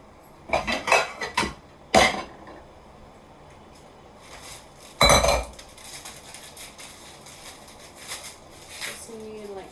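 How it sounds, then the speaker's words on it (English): A bowl is fetched and washed vegetables are tossed into it in a kitchen, giving a few sharp clattering knocks and clinks of dishware separated by quieter handling noise. "let me get a bowl so that I can throw the vegetables I've washed into the bowl"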